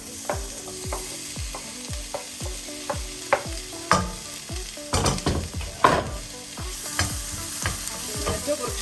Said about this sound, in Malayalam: കുറച്ച് നേരം ഞാൻ നല്ലപോലെ വഴറ്റി